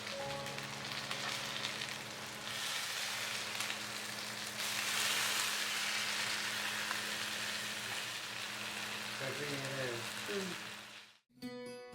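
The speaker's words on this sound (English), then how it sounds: "Then to that saute 3 medium-sized onion chopped till it's soft." Three chopped medium onions sauté in a covered pan on low flame, giving a continuous soft sizzle and crackle with a steady background hum, then a few clinks and a brief drop to quiet at the end.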